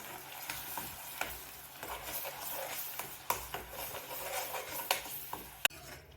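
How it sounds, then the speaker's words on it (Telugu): Onion paste fries in oil on medium heat for a Telugu eggplant curry, a faint steady sizzle broken by stirring scrapes and light utensil taps on the pan. "మీడియంలో పెట్టుకుని చక్కగా వేపించుకుందాము."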